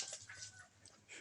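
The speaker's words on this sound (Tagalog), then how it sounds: "Na makita nyo yung aso na naglalaro." Two young dogs play together, giving short high whimpers and yips in a quick, scattered burst, fairly faint and close by.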